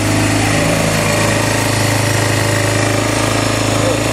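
A Yamaha Bruin 250 ATV engine runs steadily after its plugged carburetor jets were cleaned, a loud, continuous rapid chugging idle with a dense mechanical rattle, close by, with no talk.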